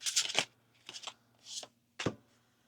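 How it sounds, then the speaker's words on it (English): A pile of tarot cards spills out during shuffling, making four short, crisp papery flutters and slaps close by, with quiet gaps between them. "I had to adjust some things because like 100 cards just came out at once."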